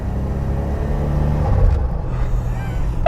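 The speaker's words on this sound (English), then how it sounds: "What this car has is turbo noise and pounds of it" A Buick Grand National's turbocharged engine produces a deep, steady rumble from inside the moving car, with a faint rising whine and shifting tone as the turbo spools up.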